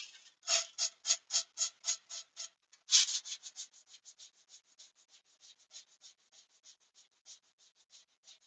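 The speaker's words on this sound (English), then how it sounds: "which is why you see me sanding with these rather than the normal power tools." Wood being hand sanded in a garage workshop, a series of rhythmic rasping strokes, loud and evenly spaced at first, then a quicker run of lighter, fading strokes, close and alone without talk.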